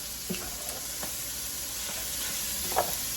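Food sizzles and simmers in a pan as a soft, even hiss with a few faint clicks from a utensil, and no voice is heard.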